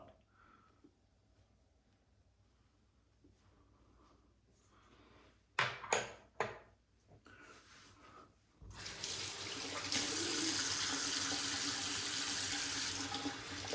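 Water runs steadily from a tap as a face is rinsed after a straight razor shave, following a stretch of quiet handling noises and a few sharp knocks; the flow sounds close and continuous to the end.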